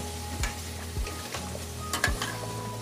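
Tomatoes are crushed with a spoon in simmering tamarind broth for sinigang with milkfish and shrimp, a few soft scraping presses against the pot over a steady low bubbling, close and alone.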